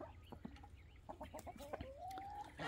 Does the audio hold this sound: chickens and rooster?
yes